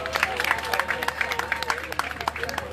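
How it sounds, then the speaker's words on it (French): A crowd claps steadily at a birthday concert gala. The applause is fairly faint and continuous, with a voice carrying over it. "Isaac Descartes, sous vos acclamations, s'il vous plaît."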